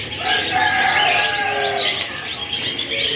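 Local canaries, a mix of males and females, chirp and trill in a bird shop, with several quick rising tweets repeating over a steady bed of nearby bird calls.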